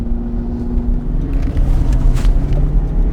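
A 2001 Lamborghini Diablo VT 6.0 with its 6-litre V12 running, giving a loud, steady, deep rumble that swells slightly partway through, close by.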